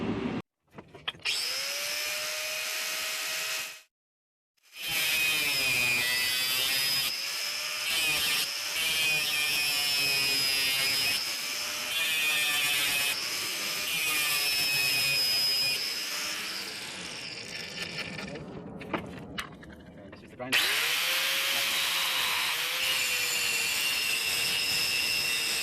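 An angle grinder cuts metal during a Honda Civic top-mount turbo build, whining loudly and steadily up close, with shifting pitch as the disc bites and two short pauses.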